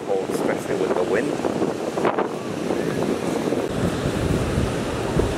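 Wind and surf at Wasaga Beach: gusty wind buffets the microphone over a steady wash of waves along the shore, with faint human voices mixed in.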